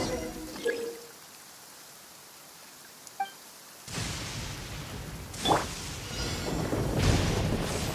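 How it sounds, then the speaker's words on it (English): Thunder in a video game: a faint click first, then a sudden broad rumble breaks in and rolls on, with sharper cracks swelling twice over a rain-like wash. "Listen. Thunder speaks the will of the almighty Shogun."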